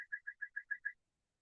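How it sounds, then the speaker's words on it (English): A bird clock chimes with a bird call: seven evenly spaced, whistle-like chirps in a quick, steady rhythm, clear and fairly close, then silence. "It seems like that bird clock follows me everywhere I go."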